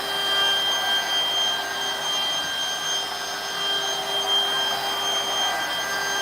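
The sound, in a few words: DeWalt router carving wood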